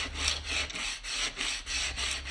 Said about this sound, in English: I'm just taking some 220 grit sandpaper